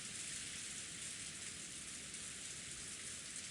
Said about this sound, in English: The rain, which had started falling at some point, rightly tormented the crucified witch.